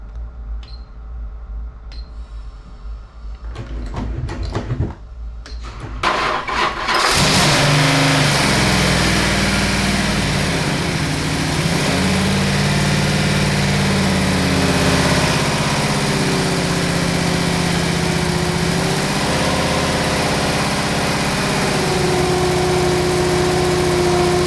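A high-performance 413 big block Mopar V8 cranks and catches after a few seconds of clicks and shuffling, then settles into a loud, steady, rumbling idle that runs on without pause.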